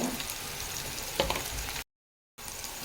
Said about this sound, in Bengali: ভালো করে এটাকে নেড়ে ভেজে নেব